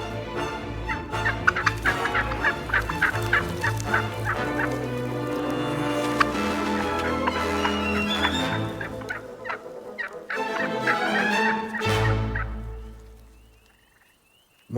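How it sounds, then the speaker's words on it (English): Wild turkeys in a Canadian forest, a flock gobbling and clucking loudly and repeatedly near at hand, with overlapping calls that fade out toward the end. "Once personal space issues are satisfied, the turkeys settle down for a rest."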